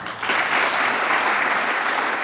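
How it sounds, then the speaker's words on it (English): An audience at a prescribed fire summit in Nebraska breaks into applause, a loud, dense burst of clapping that swells in quickly and holds steady, with no speech above it. "So if you appreciate them with a round of applause"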